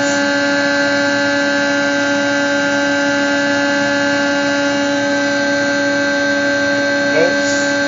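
A 500-ton twin screw compressor chiller on a variable frequency drive runs steadily, giving a loud, constant tonal hum with a drive whine, no change in pitch throughout and no speech.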